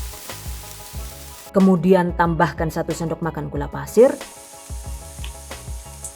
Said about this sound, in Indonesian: Tumis dengan menggunakan api sedang agak kecil hingga harum.